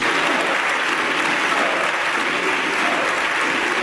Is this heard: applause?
yes